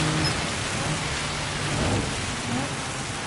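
Heavy rain in a racing video game on the Nordschleife circuit pours as a steady, dense hiss that fills the whole moment without any break, with a faint low engine drone underneath.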